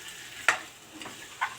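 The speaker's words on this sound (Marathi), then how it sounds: "चांगलं फ्राय होऊन द्यायचं." Chicken pieces fry quietly in a pan as a spoon stirs through them, giving a soft steady sizzle broken by two brief scraping clinks close by.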